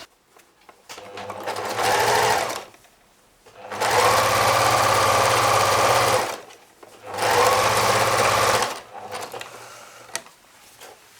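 A sewing machine sews an elastic waistband back onto a handmade garment, running loud and close in three sustained bursts of steady whirring stitching separated by short pauses.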